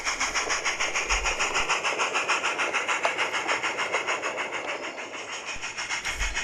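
A light railway locomotive pulls a passenger train away from Bulkeley Station on the Peckforton Light Railway, with a steady, rapid rhythmic chuffing at moderate distance and a low rumble underneath.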